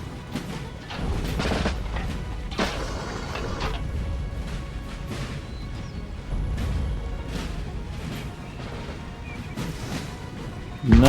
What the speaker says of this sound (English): That cannonball looked like it got him right in the nuts.